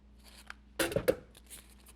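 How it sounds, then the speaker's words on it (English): Scissors snip through a paper streamer while a juice box mummy craft is made: two quick close crisp cuts in succession, preceded by faint rustling of paper in a quiet room. "And then just cut right there."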